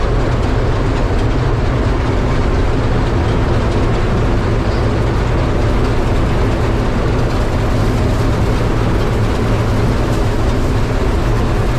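An E512 combine harvester engine running at full throttle, a loud, steady, unbroken mechanical roar filling the whole stretch with no talking.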